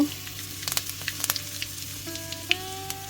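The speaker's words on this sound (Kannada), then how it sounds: "ಸಾಸಿವೆ ಎಣ್ಣೆ ಸರಿಯಾಗಿ ಬಿಸಿಯಾದ ನಂತರ 1 ಟೀ ಸ್ಪೂನಷ್ಟು ಸಾಸಿವೆ, ಸ್ವಲ್ಪ ಕರಿಬೇವು" Mustard seeds and curry leaves sizzle in hot mustard oil, a steady crackling fry with scattered sharp pops and a few brief higher tones over a low kitchen hum, no talking.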